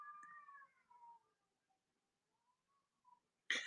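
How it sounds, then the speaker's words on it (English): A faint cat meows indoors, a drawn-out wavering call followed by a few quieter trailing mews, heard alone before a sudden brief noise burst at the end. "There's, like, a cat."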